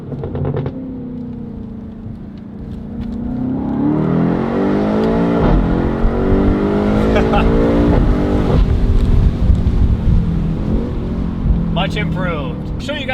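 A BMW M8 fitted with a Valvetronic Designs exhaust and OEM downpipes revs up and settles, its deep engine note rising and falling near the microphone, with voices briefly audible.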